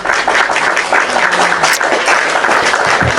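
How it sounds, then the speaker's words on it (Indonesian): An audience claps, a dense, even wash of applause filling the clip at steady loudness for a few seconds. "Tepuk tangan buat Oten."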